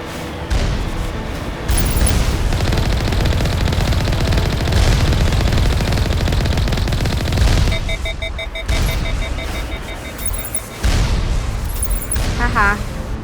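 Rapid turret gunfire in Mass Effect 1, a dense continuous rattle of shots with booming impacts, loud and sustained, mixed with game sound effects and beeps throughout.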